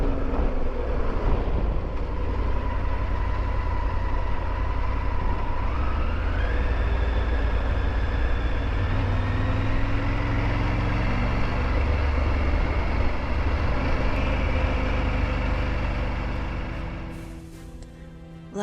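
A Triumph Tiger 900 GT motorcycle cruises steadily cross country, its loud engine drone and wind roar continuous, rising through a gear shift partway before easing off near the end.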